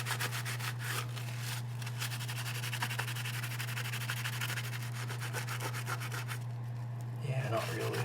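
Wipes rubbed over a metal plaque from a SkyTrain car, a close scratchy rubbing in quick repeated strokes over a constant low electrical hum, with no speech.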